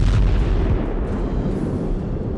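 A car packed with explosives rams a CRPF convoy in a suicide attack, and a loud, deep blast rumbles on as a heavy roar that fades only slightly.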